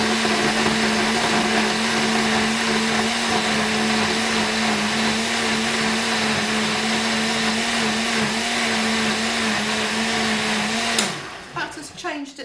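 A blender whirs steadily at high speed, whizzing coloured paper pulp for papermaking, loud and continuous for several seconds before cutting off abruptly into clatter.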